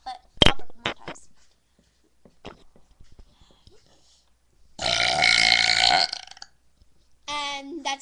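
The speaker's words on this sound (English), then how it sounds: "I'll burp more times" A woman lets out one long, loud, rasping burp after a few shorter noises, then another voiced belch follows near the end, close to the mic with quiet gaps between.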